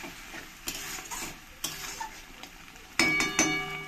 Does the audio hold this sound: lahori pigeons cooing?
no